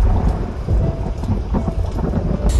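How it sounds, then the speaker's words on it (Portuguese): Thunder rumbles through a heavy rainstorm, deep and rolling, over a constant hiss of falling rain. "Relâmpago, trovão."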